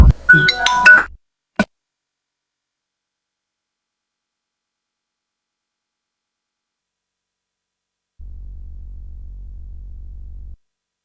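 A phone ringtone for an incoming call: a short burst of bright, layered chiming tones, a brief click, long silence, then a low steady buzzing hum for a couple of seconds.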